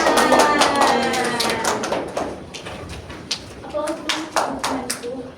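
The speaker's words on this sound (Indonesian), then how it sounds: "Tepuk tangan" Classmates in a school micro-teaching theatre-arts lesson clap for a group coming forward, a burst of quick overlapping claps that thins and tapers, with a voice and scattered talk mixed in.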